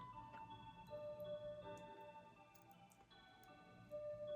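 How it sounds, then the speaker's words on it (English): A cuckoo clock ticks faintly and steadily in a quiet room, soft regular clicks under a low hum. "you can hear my cuckoo clock."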